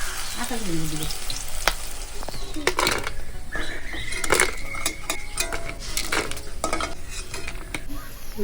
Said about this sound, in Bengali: এবার আমি একে একে ফুলগুলোকে ভেজে নেব।